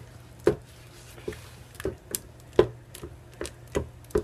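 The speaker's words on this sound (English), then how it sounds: "So you just want to chop it up." A knife chops a block of melt-and-pour soap base into small pieces on a board, producing a steady series of crisp, close taps about every half second over a low hum.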